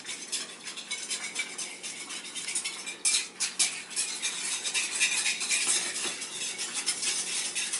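Flour dough ingredients for vegan calzones get stirred in a bowl, a close, busy scraping and clinking of a utensil against the bowl with uneven rhythm, louder in bursts midway.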